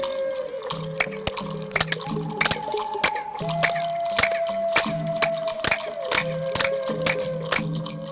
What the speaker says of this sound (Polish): To, co słyszeliście przed chwilą, to klaskanie